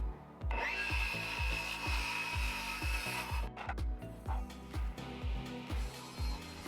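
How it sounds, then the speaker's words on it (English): A 4x8 sheet of plywood being cut into smaller pieces, a steady rhythmic run of saw strokes close up with a sustained whine in the first half, loud and continuous throughout. "I have a 4x8 sheet of plywood here that I'm breaking down to more manageable pieces"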